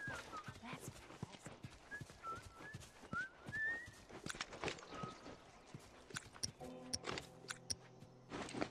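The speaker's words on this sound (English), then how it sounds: "I'm whistling." Whistling in The Last of Us, a melodic whistle with gliding tones rising over horse-like clip-clop hoofbeats and game ambience, with a voice speaking over it.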